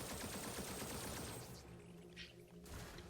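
Submachine gun in the video game Zombotron firing a fast continuous rattle for about a second and a half, followed by quieter impacts and a short burst of noise as the shooting stops.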